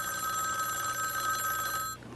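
An old-style telephone bell rings continuously in a shrill, loud, steady trill and then cuts off abruptly.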